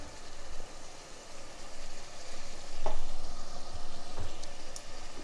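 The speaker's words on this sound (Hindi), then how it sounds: "अब इसे अच्छे से हमने भून लेना है" Salt and cumin fry with ground garlic and ginger in a pan for bhindi chicken, a steady close sizzle with scraping stirs swelling midway.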